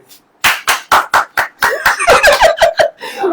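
Clapping in a church gathering: a series of sharp, loud close claps, first spaced singly, then quickening into a fast burst of overlapping claps before trailing off.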